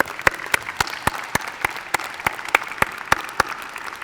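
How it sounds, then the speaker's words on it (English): Scattered, fairly sparse applause for honors students at a university senior breakfast, with about a dozen distinct claps in an uneven rhythm, like a small group clapping slowly. "Let's give all of them a round of applause"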